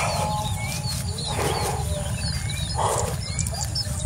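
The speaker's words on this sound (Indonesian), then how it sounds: "Burung kedase itu ya kicaunya ya begitu." A kedasi cuckoo calls twice in short, mid-pitched bursts, while higher bird chirps flicker around it over a steady low background rumble outdoors.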